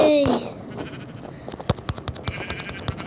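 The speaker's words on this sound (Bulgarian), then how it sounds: "Овца!" A sheep bleats once near the start in a Minecraft survival game, a short wavering cry followed by a string of sharp clicks and taps, with a voice talking over it.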